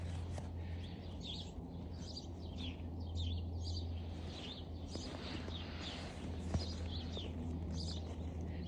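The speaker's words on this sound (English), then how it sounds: "The birds are singing a lot today." Birds singing outdoors on a day after cold weather, with scattered chirps and tweets of several birds at moderate distance over a steady low hum and faint rustling footsteps.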